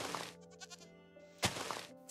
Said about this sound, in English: Goat! I saw a goat.